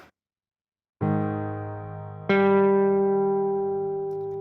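Distorted electric guitar tones from a solo lesson: silence, then one sustained note rings out, and a second struck note layers in and rings on loudly, alone.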